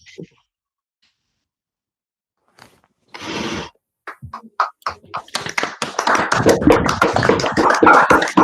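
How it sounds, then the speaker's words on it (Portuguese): Participants in an online video meeting clap into open microphones, a few scattered taps after near silence growing into dense, uneven clapping from many people by the end. "para a gente dar aí uma salva de palmas"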